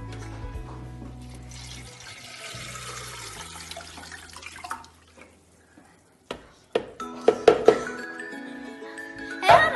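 Paper pieces and water being poured from a measuring jug into a blender for homemade recycled paper, a steady splashing pour for about five seconds followed by sharp knocks and clatter of the jug and blender.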